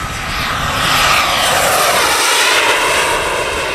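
A radio-controlled turbine jet with its landing gear stuck down roars past on a low pass, a loud, steady rushing whine that swells and eases slightly over a few seconds, with no talk.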